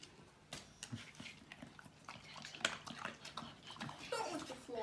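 A small dog whimpers and whines in short, uneven bursts indoors, close and fairly quiet, with a few higher yelps near the end.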